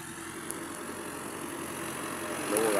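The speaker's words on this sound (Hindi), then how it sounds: "वो सामने देखो ट्रैक्टर आ रहा है।" An engine rumbles steadily on a rainy road as a tractor approaches, the noise growing slightly louder toward the end, with a continuous wash of background hiss.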